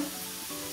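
Meat sizzling and crackling in a hot pan, a brief, close, steady hiss of frying with no talking over it.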